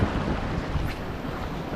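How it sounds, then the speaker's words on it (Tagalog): Strong wind blowing across a seaside shore-casting spot, a steady loud buffeting roar against the microphone with the wash of waves mixed in, no voices. "Matindi na yung hangin mga kasi."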